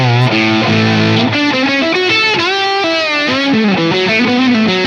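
Electric guitar through a Silktone germanium fuzz pedal in unfiltered raw mode plays a loud, distorted melodic lead line with bright high end, fuzzy sustained notes and bends, alone and close.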